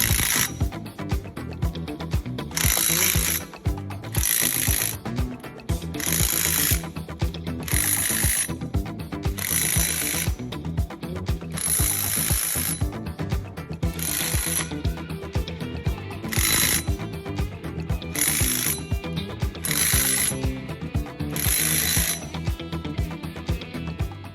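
A wrench drives bolts home during clutch assembly, giving a series of loud, regular mechanical bursts with short gaps between them, repeated steadily over a continuous background.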